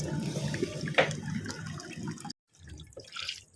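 Raw beef is rinsed under running tap water in a sink, a close splashing rush with a brief sharp splash, cutting off abruptly before a quieter trickle resumes.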